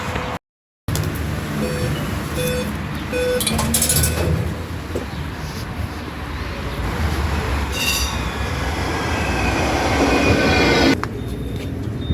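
A tram rumbles along its rails with metallic squeals and clatter, loud and close, sustained throughout with a brief dropout near the start.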